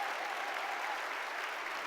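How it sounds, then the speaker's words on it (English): Sustained applause from a large audience at an MLK holiday breakfast program, dense and steady with no breaks, filling the room at a moderate level. "For that round of applause"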